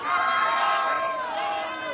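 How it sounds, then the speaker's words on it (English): Crowd at a women's college softball game between Oklahoma State and Kansas, a broad swell of cheering and shouting that holds steady for two seconds before easing slightly. "And terrific crowd here"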